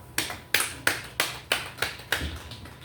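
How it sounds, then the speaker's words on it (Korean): A church congregation claps in unison during a Sunday sermon, seven crisp, evenly spaced claps in a steady rhythm, close and clear with no talking over them. "하나님께 영광의 박수 합시다"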